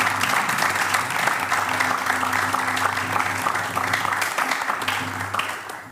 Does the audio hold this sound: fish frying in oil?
no